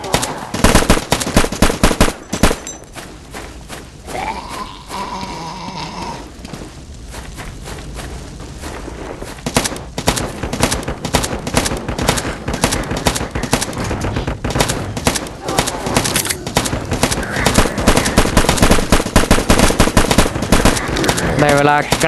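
Sustained bursts of automatic gunfire spraying bullets in the video game LifeAfter during a flag-capture battle, loud and rapid with dense repeated shots.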